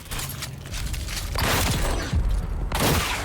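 Pistol gunfire in Dune Awakening crackles in a cluster of loud sharp shots, with mechanical clatter and dense battle noise around them.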